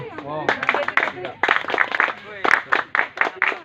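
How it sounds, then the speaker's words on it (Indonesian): At a beach outing, a group performs the 3-3-7 clap, quick bunched claps in repeated bursts after someone speaks, with voices mixed in. "Tepuk 337."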